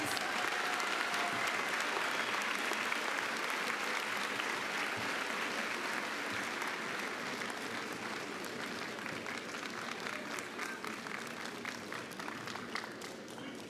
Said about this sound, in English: give our 100th mayor another round of applause, please